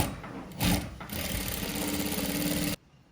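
A sewing machine runs steadily while stitching a back-open saree blouse, a close continuous mechanical whir with a brief louder burst early on, stopping abruptly near the end.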